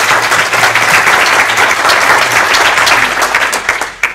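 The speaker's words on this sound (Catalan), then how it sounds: "que també els hi fem un aplaudiment" Sustained, dense audience applause at a rural-themed Catalan conference day, honouring the authors of a children's storybook; steady loud clapping throughout that thins out briefly near the end.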